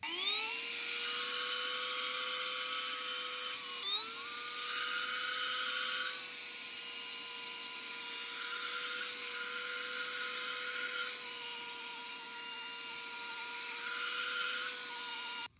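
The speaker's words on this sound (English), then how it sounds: "pressing down really hard with the vacuum will suck it up" Bissell handheld vacuum sucking cracker crumbs from car seats, a high steady motor whine that dips briefly in pitch as it presses against the upholstery, continuous and close, with no talk.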